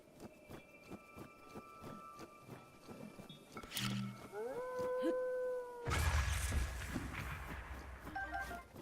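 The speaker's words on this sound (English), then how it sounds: "That howl followed by explosion." In Zelda: Breath of the Wild, a drawn-out creature howl with bending tones rises over game ambience, then a sudden loud explosion bursts and rumbles away, with a quiet voice under it.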